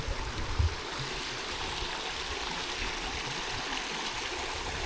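Water rushes steadily from a pipe near a power station along a Scottish Highlands trail, a constant broadband roar that stays even throughout with no voices.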